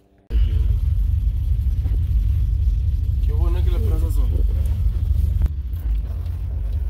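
BMW E30 325i with a performance exhaust, a loud steady low engine rumble running throughout, dipping slightly near the end, with people talking over it.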